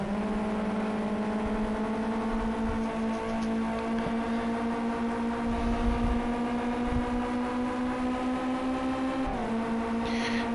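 Z-Tech race car engine in a racing video game at the Hockenheimring short circuit, a steady droning whine held at constant pitch with a brief dip near the end, fairly faint and without talk.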